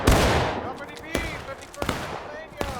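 A musket volley fired in the video game War of Rights: a loud, close crackling burst of overlapping shots, then scattered single reports and echoing cracks trailing off, with voices shouting amid the fire.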